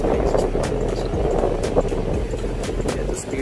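An Usha Hi Speed 400 mm three-blade pedestal fan runs at its highest setting, speed 3, giving a steady, close, broadband whoosh of rushing air with no talk over it.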